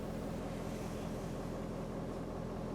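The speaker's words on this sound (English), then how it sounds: "Upon startup, you'll notice how quiet and smooth the diesel engine is now." A 2017 Ford Super Duty diesel engine idles after startup with a steady, low, smooth rumble, quiet and continuous with no talk.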